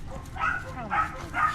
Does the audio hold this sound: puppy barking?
yes